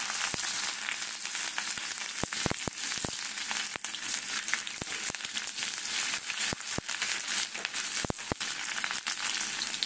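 Garlic and ginger fry in hot oil in a kadai, giving a loud, steady sizzle with dense crackling pops throughout and no voices.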